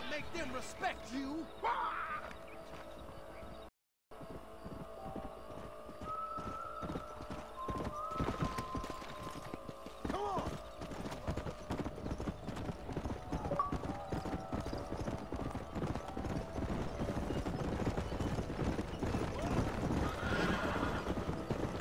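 Horse hooves clip-clop at a steady gallop in Red Dead Redemption 2, with a rhythmic drumming that builds through the clip, a whinny near the start, and game sounds layered over it.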